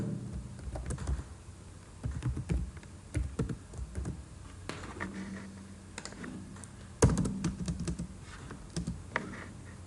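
Close computer keyboard typing as HTML table code is entered, with irregular bursts of light key clicks and brief pauses in between.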